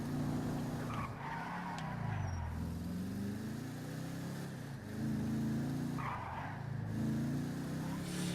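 A car skids with squealing tyres in the GTA Online video game, driven in first person, while the engine drones steadily throughout, with the squeals returning in bursts.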